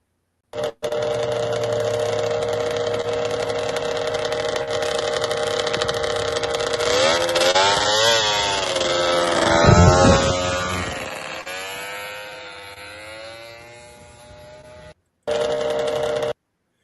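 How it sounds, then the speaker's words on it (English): A vintage racing snowmobile engine drones loud and steady on playback, rising to a peak as the sled passes close by and then fading. The sound cuts briefly before the roar returns. "that sled on the left is a sled Tom used to race"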